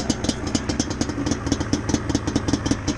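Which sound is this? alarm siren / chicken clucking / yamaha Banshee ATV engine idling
yamaha Banshee ATV engine idling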